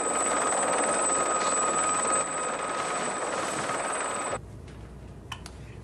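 A Gazelle helicopter hovers over the sea, giving a steady whining rotor and turbine drone with a high tonal whine, loud and continuous before it drops abruptly to a fainter rumble near the end.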